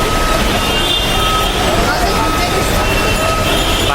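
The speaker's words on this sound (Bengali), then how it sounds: "চলে আসলাম মেট্রো রেলে" Metro rail train in heavy rain, a loud steady rumble and roar of the carriages that fills the whole span without a break, with a voice over the noise.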